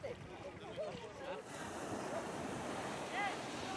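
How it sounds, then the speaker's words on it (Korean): A swollen river flows across Route 5 in the Madagascar jungle, a continuous rushing wash under wind noise, with a voice speaking over it and a few short chirpy sounds. "어느새 불어난 강물이 길을 가로막습니다."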